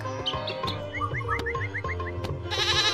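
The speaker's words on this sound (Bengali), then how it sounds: "এই ভেড়াটা হচ্ছে একটা বিরক্তিকর।" A sheep in the Meena Raju mobile game bleats in a quick run of short, cartoonish calls, mixed with bright chirpy game sound effects and background music.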